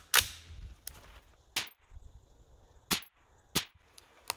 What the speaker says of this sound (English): So I'm going to go ahead and fire a group, see how close we are, and go from there.